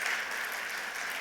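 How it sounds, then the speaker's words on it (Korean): A church congregation claps steadily to welcome a visiting pastor's family, the applause forming an even, sustained patter that fills the room at moderate volume without pause. "사모님과 아이들 같이 박수로 한번 축복하고 환영해 주십시오"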